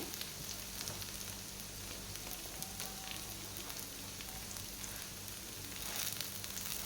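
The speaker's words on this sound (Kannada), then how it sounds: "ಇದನ್ನು ಕೂಡ ಚೆನ್ನಾಗಿ ಫ್ರೈ ಮಾಡ್ಕೊಳ್ಳೋಣ ಟೊಮೆಟೊ ಮತ್ತು ನೀರುಳ್ಳಿ ಸಾಫ್ಟ್ ಆಗಿದೆ" Tomato and onion fry in a pan with a steady, dense sizzle that holds at an even level throughout, with light crackles on top and no voices.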